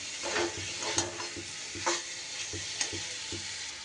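Pointed gourd frying with spices in a pan, a steady sizzle broken by regular scraping stirs of a spatula, close and continuous without talk.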